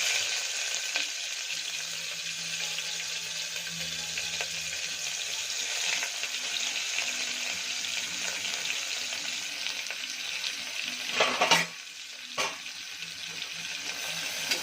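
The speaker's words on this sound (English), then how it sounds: "Now I am adding in the sliced onion." Sliced onion sautéing in a pan for a carrot and drumstick curry, an even mid-level sizzle running throughout, with a brief louder clatter near the end.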